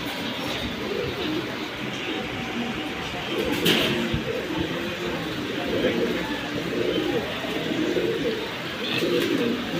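Pigeons coo in a soft, repeated rumble at close range among caged birds offered for sale, with low murmuring and faint background noise throughout.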